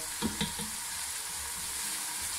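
Onions and spices for an aloo matar pulao frying in a pan, with a couple of stirring knocks near the start over a steady sizzle.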